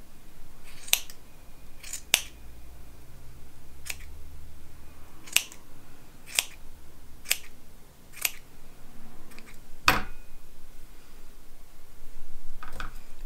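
Sharp scissor snips trim excess knitted yarn from a child's hat made on a knitting machine, about a dozen crisp cuts spaced irregularly, close and clear in a quiet room.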